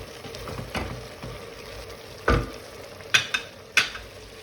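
Six chopped green peppers sautéing with meat in a pan make a soft, low sizzle, broken by a few distinct metallic stirring clinks and scrapes, with no talking.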